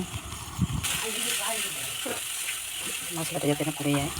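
Water poured from a rinsed spice bowl into a pan of frying chili, coriander and cumin powder mixture, a steady gushing hiss followed by bubbling sizzle, with a voice talking over it.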